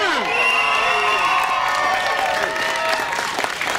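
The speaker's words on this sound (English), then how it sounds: "Give her another round of applause." Crowd at a city hall rally breaking into sustained applause with cheering and whoops, a dense roar of clapping that fills the whole clip, loud and close with shouted voices mixed in.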